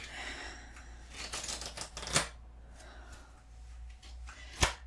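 Tarot cards are handled and shuffled up close, with soft rustling swishes and a couple of sharp snapping taps standing out against quiet background.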